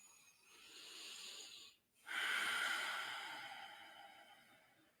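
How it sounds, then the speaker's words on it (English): Deep breathing during a yoga flow: a long inhale, a brief pause, then a fuller, longer exhale, soft and close with airy texture and no talking. "Take one more breath in and out."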